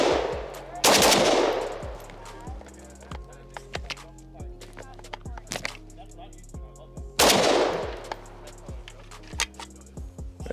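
Krebs Custom M23 prototype AK rifle fired at a range in several sharp bursts and single shots, loud and close with ringing echoes between strings of fire.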